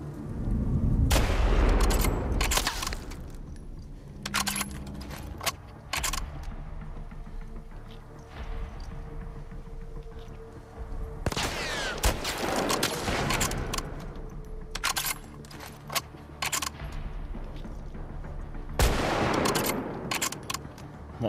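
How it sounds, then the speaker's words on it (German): A weapon fires in The Last of Us Part II, with bursts of loud, sharp gunshots in rapid clusters, some heavy and booming, separated by quieter stretches of rumble and clatter, close and forceful, with no talk. "Boah, die Waffe knallt, ne?"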